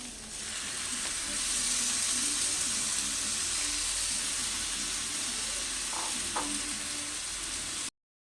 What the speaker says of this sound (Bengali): চালটা দিয়ে গ্যাসটাকে চেড়ে পাঁচ মিনিট মতন ভেজে নেব